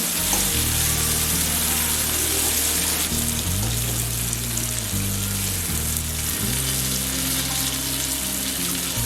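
Loud, constant sizzling of milkfish frying in hot oil in a pan, with a low steady hum underneath and occasional stirring or water sounds.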